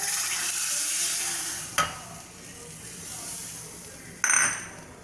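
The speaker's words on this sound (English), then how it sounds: "dal is boiling" Steady bubbling and sizzling of dal boiling in a pot on the stove, with two brief clinks of a utensil against metal.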